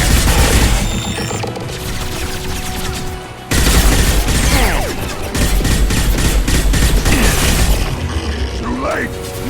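Dense bursts of gunfire and booming explosions from a Mass Effect 2 firefight, loud and continuous across the scene, with a voice shouting over the battle.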